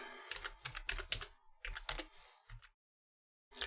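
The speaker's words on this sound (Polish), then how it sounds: "klikam w polu Wyszukaj Wpisuję jego nazwę" Keys on a computer keyboard are typed in quick, uneven bursts while a program name is entered into the Windows 11 Start menu search box, followed by a short pause and one final keystroke.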